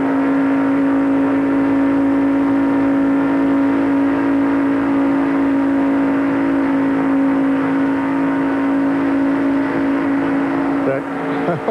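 Race car engine from inside Jeff Gordon's car during the 1994 Daytona 500, a loud steady high drone held nearly unchanged throughout, with a brief dip near the end.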